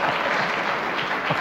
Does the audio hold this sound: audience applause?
yes